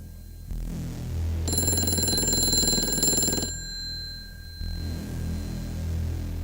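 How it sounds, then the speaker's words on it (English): A telephone rings with a bright, sustained electronic trill for about two seconds, loud and alone, with a low hum running underneath and no talk. "I got a phone call. It's coming in."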